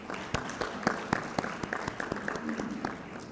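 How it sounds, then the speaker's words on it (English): Scattered audience clapping at a medical conference inauguration ceremony, a loose patter of individual claps from a seated crowd lasting a few seconds, moderately near and not very loud. "may I please request you to clap for them for a few seconds"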